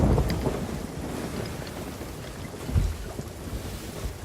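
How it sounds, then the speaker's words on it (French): A stormy sea in the Sea of Thieves game: a dense, continuous roar of rain and wind with low rumbling thunder swelling near the middle, no voices. "C'est excellent ça, la tempête."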